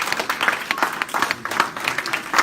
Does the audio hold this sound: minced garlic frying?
no